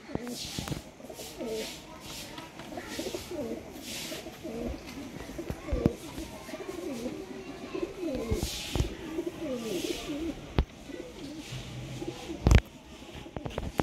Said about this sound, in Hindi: घर के ब्रीडर कबूतरों का शौक करवा रहे हैं